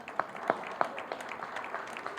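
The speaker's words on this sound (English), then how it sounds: "Let's have a round of applause for Paige Powell." Light, scattered clapping from a seminar audience in Houston, a few distinct claps standing out over a soft, thin patter at low volume.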